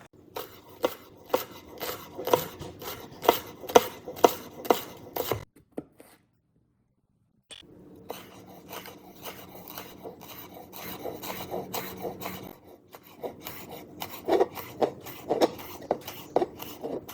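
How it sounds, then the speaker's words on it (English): Corn being grated for a vegan creamy corn pasta, a rhythmic run of rasping strokes that pauses briefly midway, then resumes in steadier, denser scraping, close and fairly loud with no talk. "So let me get grating on the rest of these."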